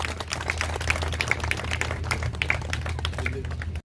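An audience claps at a tribute ceremony, a busy stream of close, crisp handclaps over a steady low hum, continuing unbroken for several seconds.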